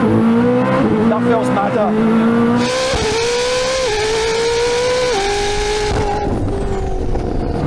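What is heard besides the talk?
Jesko hypercar accelerating, 9-speed transmission shifting in auto mode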